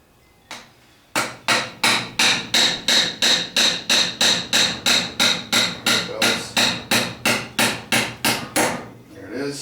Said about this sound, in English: I'm gonna try and get that roll pin out on the top. I think I'm gonna use a brass hammer for this.